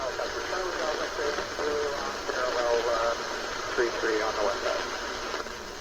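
A transmission comes through an R80 aviation band radio as a voice with a thin, radio-filtered tone over a steady hiss of static.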